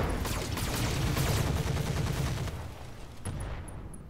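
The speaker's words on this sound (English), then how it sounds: "So we're going to fire everything on this guy." In the Roguetech mech combat game, the mech weapons fire together in a rapid burst of overlapping gunfire and cannon blasts that booms loudly, then tails off into a few sharp final shots.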